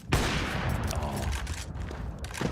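Gunfire from a Counter-Strike 2 match at a PGL Bucharest 2025 playoff esports event, a dense burst of shots running continuously and loudly, with no voices.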